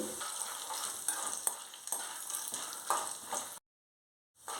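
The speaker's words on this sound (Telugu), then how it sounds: "కొంచెం కలర్ చేంజ్ అయ్యే వరకు మనం వీటిని వేయించుకోవాలి" Sundried turkey berries frying in a pan, a close, steady sizzle broken by several stirring scrapes, cutting out to a second of silence before resuming briefly, with no voices.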